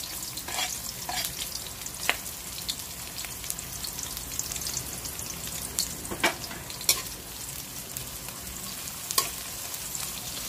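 Onion and garlic sauté in a pan for chicken mechado, giving a steady close sizzle with scattered sharp pops and crackles throughout, no voices.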